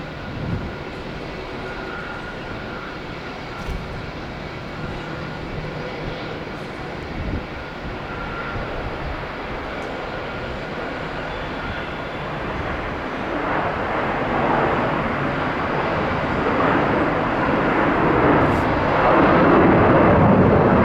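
SriLankan Airlines Airbus A330 departing Melbourne on runway 16, a broad jet roar that builds steadily and grows louder toward the end, with no other voices.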